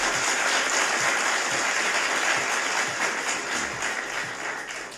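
Sustained clapping during a livestream from a 12-hour coding hackathon, steady and fairly loud with faint rhythmic low taps underneath, continuing evenly for several seconds with no talking.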